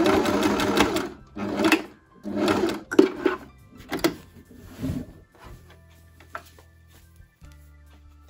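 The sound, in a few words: sewing machine stitching fabric sleeve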